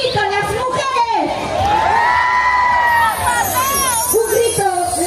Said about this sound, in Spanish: Un grito, las mujeres.